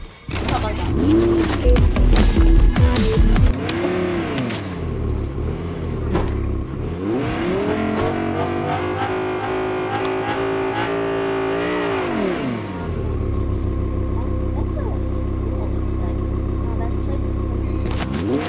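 A car engine revs and surges while driving, the pitch sweeping up and down in loud bursts at first, then settling into a steadier drone, with voices talking over it.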